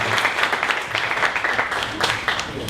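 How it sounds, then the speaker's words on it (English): Applause from the audience at a 1 Million Cups Dallas startup pitch event, a steady round of clapping for the Converse VR presenters that fills the room with broadband patter, with some voices mixed in. "One more round of applause for Converse VR"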